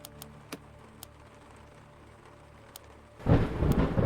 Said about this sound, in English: we listen to the rain pitter-patter on the windows